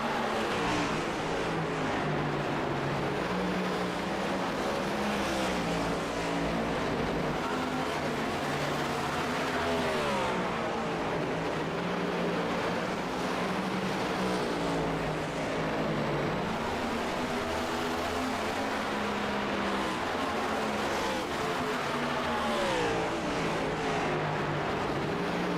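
Race cars roar around Richmond in a Cup Series racing video game, a dense, steady engine drone with shifting pitch as several cars run in single file, loud and continuous with no talk.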